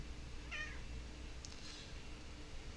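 A cat gives a couple of short, faint meows at a distance over a quiet room hum, with no talking.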